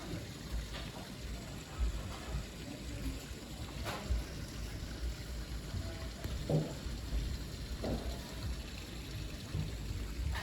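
Rainwater cascading and overflowing from a roof gutter along a steep roof gives a steady, fairly faint rushing splash with a few brief drips standing out, and no one talking.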